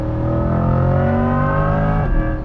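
A 2024 Chevrolet Corvette E-Ray hybrid pulls hard under throttle, its V8 rumble climbing in pitch alongside a whirring electric motor, loud and close for a few seconds.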